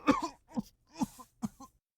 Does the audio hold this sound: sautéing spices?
no